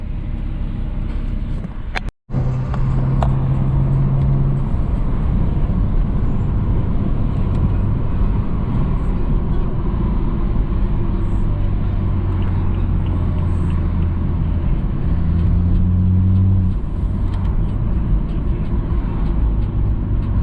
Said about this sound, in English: The car does have the M Performance exhaust, so that's why it is a little bit loud